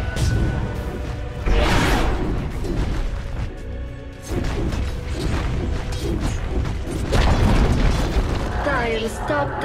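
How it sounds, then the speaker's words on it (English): A Dota 2 tower collapsing in a loud booming explosion amid dense battle effects and game music, with continuous rumbling crashes and in-game announcer voice over the top. "Dire's top tower has fallen."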